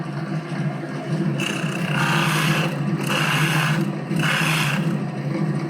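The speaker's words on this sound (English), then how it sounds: "this is called peck drilling, where I drill a little bit, and then I bring the bit up" A drill bores into wood by peck drilling in repeated short bursts, three rasping pushes separated by brief pauses while the motor keeps whirring underneath.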